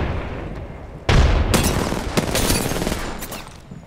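Grenades explode in the Apex Legends video game, a sudden loud blast followed by rumbling bursts and rapid gunfire-like crackle layered over steady background noise.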